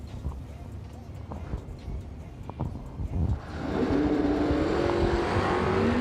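Drag race cars launch at a racing event, a Camaro among them. An announcer talks over crowd and track noise, then a loud, sustained engine roar bursts in and climbs in pitch.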